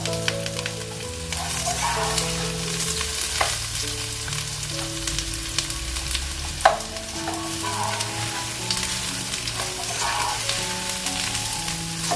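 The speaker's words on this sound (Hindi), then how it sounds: "और इसमें हम अपने प्याज को फ्राई करने के लिए रख देंगे।" Sliced onions fry in about a tablespoon and a half of oil and crackle with a steady, dense sizzle, while occasional stirring scrapes and clinks come through up close and no one speaks.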